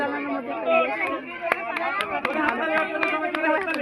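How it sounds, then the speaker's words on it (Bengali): An audience at a Bangladeshi victory celebration claps in scattered, sharp bursts under steady chatter and talking voices, with the claps growing more regular toward the end. "সবাই হাততালি।"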